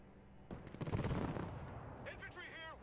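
Gunfire erupts in a Broken Arrow battle: a dense burst of rapid shots and booms up close, then fading, with a clipped radio-style voice over the tail.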